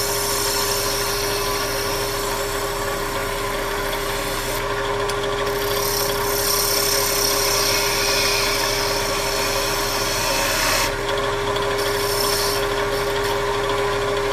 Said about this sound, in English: Now keep working it in towards the center, rolling the gouge out to the edge.